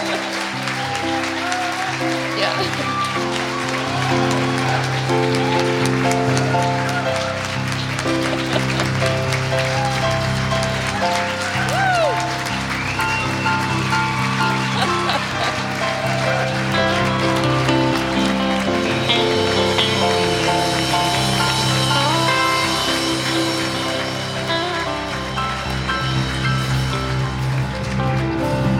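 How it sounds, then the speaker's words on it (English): A congregation at a Sunday church service applauds a guest speaker for a sustained stretch, the steady clapping mixed with organ or keyboard music playing throughout and a brief voice. "Let's give him a round of applause."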